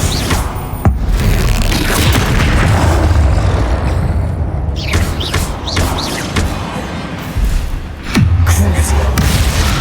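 Bombarda and Confringo explosion spells in the Hogwarts Legacy video game: loud, booming blasts with thuds and crackling debris, continuous and dense over a game soundtrack, with brief shouted voices.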